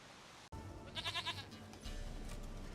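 A goat in the video game The Witcher 3 gives one wavering, pulsed bleat, clear and fairly close, after a sharp click, with a low ambient hum continuing behind it.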